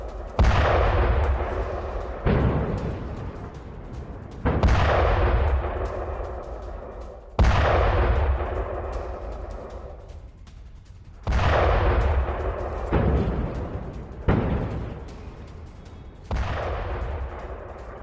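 Heavy explosions boom one after another at intervals of a few seconds, each sharp blast followed by a long rumbling decay.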